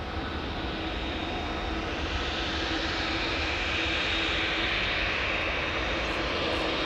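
A KLM Boeing 777-200ER roars at Amsterdam Schiphol Airport, a loud continuous jet engine rumble and whine held steady throughout, with no voices over it.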